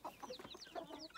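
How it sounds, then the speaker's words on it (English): Faint, close clucking from a rooster and hens among farmyard chickens, a quick run of short chattering calls across about a second. "He's a good rooster."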